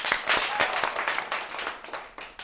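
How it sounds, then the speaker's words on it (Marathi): Children clap together in a burst of rapid, uneven applause during a number-jumping learning game, loud and close for a couple of seconds before thinning out. "बरोबर मारली की टाळ्या वाजवायच्या"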